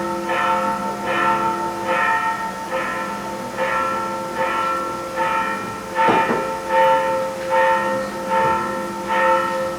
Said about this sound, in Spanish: voy a esperar a que acaben las campanas